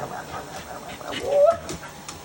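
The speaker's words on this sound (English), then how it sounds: "What are you doing, dog?" A dog whimpers and whines in a kitchen during home canning, a short rising whine near the middle amid soft shuffling and faint background noise, with no one speaking over it.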